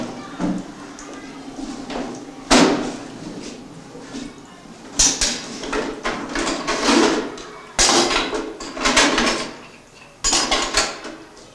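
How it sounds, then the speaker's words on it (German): A plumber detaches a washbasin, with a series of sharp clanks, knocks and scraping bangs from tools and fittings that come in uneven bursts over a steady background hum, close by. "So, dann machen wir das Becken erstmal ab."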